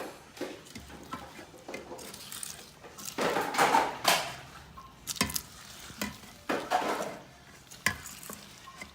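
Coco Pops cereal stirred into a chocolate mixture, giving close, crackly scraping strokes that come in uneven bursts, growing louder in the middle of the stretch, with no talking.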